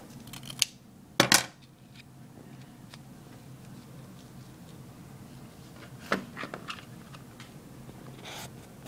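Scissors snipping ribbon while making a hair bow: a few sharp, close metallic cuts in short bursts, the clearest near the start, with quieter handling clicks between and no talk.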